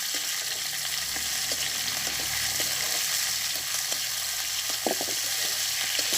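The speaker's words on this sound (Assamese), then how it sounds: "এতিয়া মাংস কেইডোখৰ অকণমান ৰঙচুৱা হোৱাকৈ মই ভাজি ল'ম।" Local chicken pieces frying in hot oil with browned onions, a continuous close sizzle with occasional stirring scrapes and clicks, no voices.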